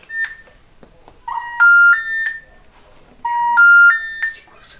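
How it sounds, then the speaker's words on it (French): A phone plays a short electronic ringtone melody twice, the bright stepped tones sounding loud and close with brief pauses between. Faint voices and room noise fill the gaps. "C'est quoi cette sonnerie de merde?"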